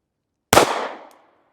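A single sharp pistol shot of a .380 ACP round fired over a chronograph into a berm at an outdoor range, a close, loud crack with a short decaying echo.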